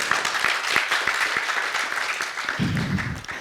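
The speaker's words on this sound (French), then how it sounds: "Je pense que ça mérite un applaudissement." Audience applause at a taxi-industry panel event, a steady spread of many hands clapping that stays fairly loud throughout, with a low rumble joining near the end and no voices over it.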